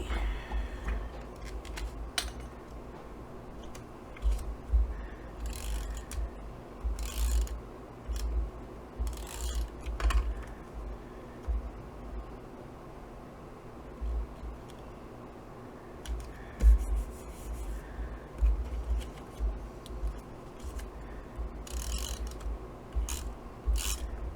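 Crackling, sticky tape handling with repeated short rips and peels, close by, in an irregular rhythm and no talking.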